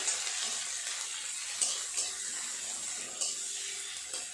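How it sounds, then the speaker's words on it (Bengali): Chopped onions frying in mustard oil in a pan, a steady, fairly soft sizzle with a few faint stirring clicks and scrapes over it. "পেঁয়াজটা একটু ভাজা ভাজা হলে,"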